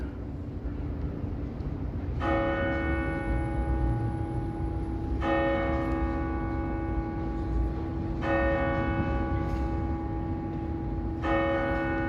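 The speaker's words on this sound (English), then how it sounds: "St. James Cathedral. It's gonna chime in 8 o'clock." The bells of St. James Cathedral in Toronto chime eight o'clock on a busy, humid Saturday evening, four clear, evenly spaced strikes ringing out over steady city traffic noise.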